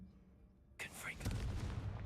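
A Confringo fire spell blast in Hogwarts Legacy, a sudden close burst followed by a rumbling, crackling explosion that lingers, with voices talking around it.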